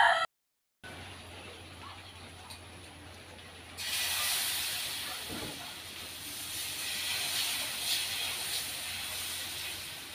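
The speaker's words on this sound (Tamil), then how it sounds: "இப்போ இதே மாதிரி எல்லா மாவையும் ஊற்றி எடுத்துக்கலாம்" Dosa batter poured onto a hot pan for a healthy tiffin breaks into a steady, broad sizzling hiss partway through, following a quiet stretch with a low hum, and the hiss keeps up to the end.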